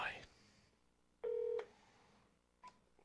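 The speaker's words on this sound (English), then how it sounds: "I have to manually dial Bruce" Manual telephone dialing during a broadcast call: a steady paired dual-tone DTMF beep lasting about a third of a second, followed later by a short faint tone blip, over quiet room background with a little faint voice.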